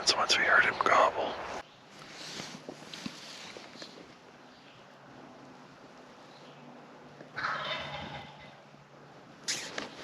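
During a New Hampshire early-season hunt, a wild turkey gobbles at the start, a sharp rattling call, then again faintly later, with whispering voices and rustling footsteps in between.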